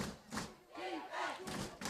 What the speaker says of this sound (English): Crowd starting to get into it a little more as we can hear them.